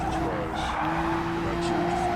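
Race car tires skid and squeal as an opponent spins out in Gran Turismo Sport, a steady engine drone with squealing tones throughout, while a voice talks over it.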